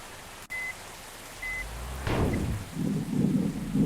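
Rain and thunder in a bus simulator game: a steady hiss of rain with a couple of short beeps, then a rolling thunder rumble that swells and lingers under the continuing downpour.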